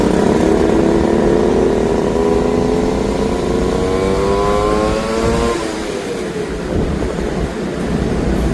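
Vespa PTS and Sprint scooters ride past on the way toward a Bali-bound harbor, a loud steady engine drone whose pitch slides downward partway through as traffic noise continues, with no talk.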